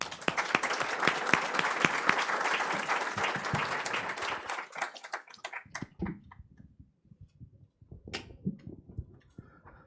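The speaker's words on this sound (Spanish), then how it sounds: "para quien pido por favor un fuerte aplauso" An audience at a lecture applauds for a conference speaker, dense and steady at first, then thinning into a few scattered claps before fading out.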